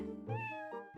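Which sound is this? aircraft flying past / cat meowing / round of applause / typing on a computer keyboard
cat meowing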